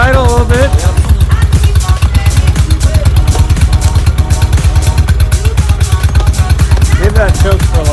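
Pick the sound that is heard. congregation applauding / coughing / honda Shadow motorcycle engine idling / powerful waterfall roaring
honda Shadow motorcycle engine idling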